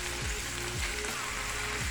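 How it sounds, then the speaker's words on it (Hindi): Small pieces of boneless chicken frying in hot oil, a steady bright sizzle with occasional low stirring thuds running evenly throughout. "बोनलेस मैंने ये चिकन ले लिया, बिल्कुल छोटा छोटा करवा लिया है और इसको अच्छी तरह इसमें फ्राई कर लें"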